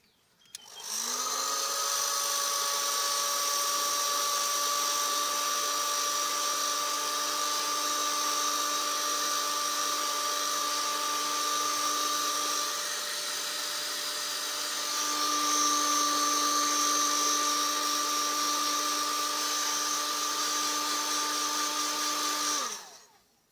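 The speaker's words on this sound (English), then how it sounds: "now we put the heat shrink over the top and go in with a heat gun" A heat gun shrinks heat shrink tubing over a spliced wire connection in a workshop working on a Mercedes E320, giving a loud, steady whining drone that runs continuously for over twenty seconds with a slight shift partway through.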